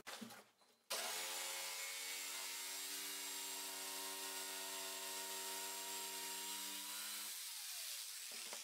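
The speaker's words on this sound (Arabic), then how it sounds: "غادي ندوز دابا باش نقطع هادو ونوريكم كيفاش غادي نحطهم." A power saw cuts wooden boards for a homemade wooden sofa in a workshop, running as one steady, loud, droning whine for about six seconds after a brief scrape, then cutting off near the end.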